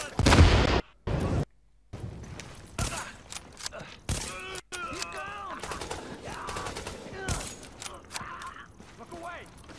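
A sticky bomb is launched and bursts in The Division with a loud, close blast at the start, followed by chaotic bursts of gunfire and mechanical clatter while voices talk in the background.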